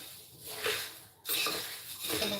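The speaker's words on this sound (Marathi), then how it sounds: "मुरमुरे भाजून घेते आधी" Puffed rice (murmure) roasting in a pan for chivda: a dry scraping and rustling stir, in two or three close, steady sweeps.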